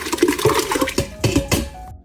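A watery, fermented mixture of weed flowers sloshes and splashes in uneven bursts as it is poured into a pot for homemade wine, close and fairly loud, ending abruptly.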